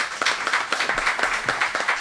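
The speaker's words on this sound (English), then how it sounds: "I want to give them a round of applause for that." A crowd at an International Women's Day awards ceremony in St. Kitts breaks into steady applause, with dense rhythmic clapping filling the space at close range and no voices over it.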